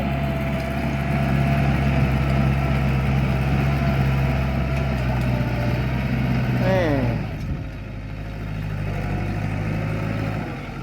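Kubota 47 tractor running in a wet, muddy field, its engine droning steadily and loud throughout, with a brief drop in pitch near the end before it settles back.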